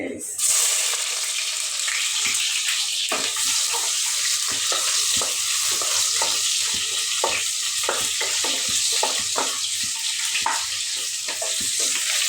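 Cinnamon, cardamom and cloves sizzle in hot oil in a pan, a steady bright frying hiss with repeated scraping stirs throughout, while someone speaks intermittently over the cooking.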